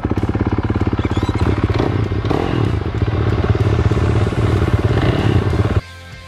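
Motocross dirt bike riding, a loud, close engine revving hard with a constant rattling buzz and clatter, cutting out abruptly near the end.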